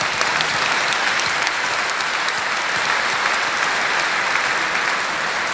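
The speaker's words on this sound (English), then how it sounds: "let's give them a round of applause" Sustained audience applause at the Cannes Lions awards ceremony, a dense, even roar of many hands clapping in a large hall, loud and steady throughout with no talk over it.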